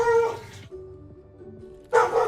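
A dog named Clover gives a couple of loud, close barks, one at the start and one at the end, separated by a quieter stretch of faint yips and whimpers.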